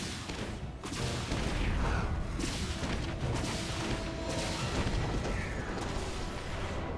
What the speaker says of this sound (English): The turret comes up. The Lexington rockets will finish it off.